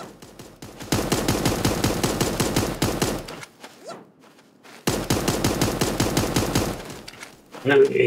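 Rapid SMG fire in the video game Super Animal Royale: two long, steady bursts of quick clattering shots, loud and close, separated by a short pause.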